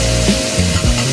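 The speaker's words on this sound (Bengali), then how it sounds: "এখন আমি দিয়ে দিচ্ছি পেঁয়াজের কলি, তারপর দিয়ে দিচ্ছি ক্যাপসিকাম।" Spring onions and green capsicum sizzle loudly in a pan while being stir-fried for fried rice, a short, close, continuous frying hiss with no voices.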